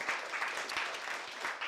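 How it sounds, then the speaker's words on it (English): Audience applauds a guest speaker, a steady, fairly faint patter of many hands clapping at a distance, without talk. "round of applause again for our guest speaker"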